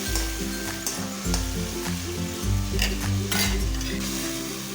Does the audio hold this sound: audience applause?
no